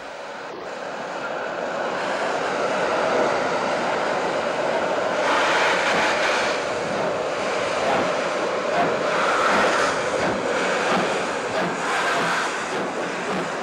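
D52 steam locomotive from the postwar era hauling the 12:35 express to Madiun on an Indonesian main line, a steady, loud broadband roar of the passing train that holds throughout with no voices.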